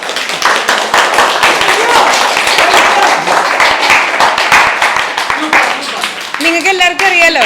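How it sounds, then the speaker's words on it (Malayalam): A crowd applauds after a Jingle Bells Christmas song at a Christmas celebration: dense, steady clapping from many hands that holds for about six seconds, with voices rising near the end. "ഓക്കേ, പാട്ട് ഇഷ്ടമെങ്കിൽ കൈയടിക്കാം."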